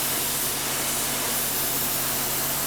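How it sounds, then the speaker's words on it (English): A spray gun hisses continuously and evenly, laying finish on the sides of a bookcase with a wide horizontal fan, a close, steady rush of air with no breaks or talk. "Now I switch to a wide horizontal fan and spray the sides of the bookcase."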